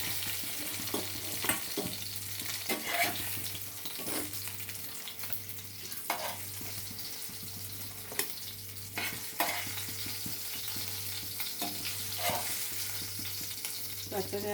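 Fish pieces frying in oil, a steady close sizzle with periodic scraping and clinking from turning the pieces, plus a low hum; a single brief spoken word comes in once.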